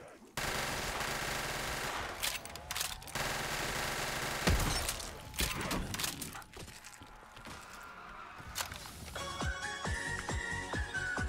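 Shotgun fire in Black Ops 3 custom zombies: loud, sustained blasts and sharp cracks mixed with game effects and music, ending in a rapid run of repeated shots.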